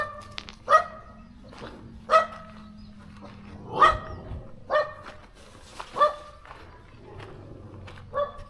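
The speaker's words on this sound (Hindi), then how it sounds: "कितना कुत्ता है यहाँ पे" Dogs bark in a village in Siluk, Arunachal Pradesh, with six or seven sharp single barks spaced a second or so apart. They sound moderately close against quiet outdoor background noise.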